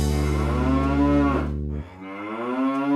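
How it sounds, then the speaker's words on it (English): A cow gives a long, loud, close moo with a rich harmonic drone, its pitch dropping sharply partway through before the low bellow resumes and trails on. "It's a cow."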